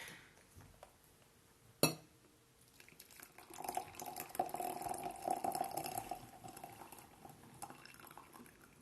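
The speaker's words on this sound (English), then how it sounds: "Oof, let me pour out properly." Brewed puer tea is poured from a gongfu vessel, a soft steady liquid trickle with faint clinks of ceramic teaware, after a single sharp clink near the start.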